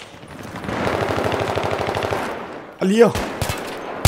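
Rapid automatic rifle fire in a Battlefield 3 match on the Seine Crossing map rattles steadily for a couple of seconds at close range, then gives way to someone speaking over scattered shots.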